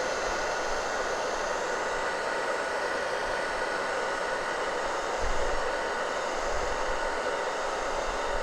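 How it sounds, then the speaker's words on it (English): Hair dryer blowing on wet chalk paste, a continuous, even rushing whoosh held close and steady for the whole stretch, with no speech. "But I'm just going to hit this with the hair dryer real quick."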